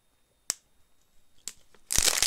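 An empty plastic water bottle being crushed by hand for recycling: two sharp isolated crackles, then a loud, dense burst of crunching and crinkling at the end, close up with no talking.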